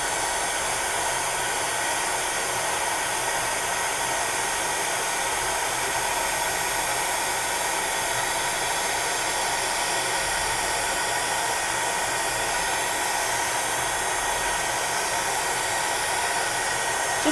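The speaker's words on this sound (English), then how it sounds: "So here's the heat gun, and I'm just going to switch it on. It's going to make a little bit of noise." Heat gun blowing steadily while setting a coral cane bracelet, a continuous loud whooshing hiss close to the mic, unbroken for the whole stretch with no talking.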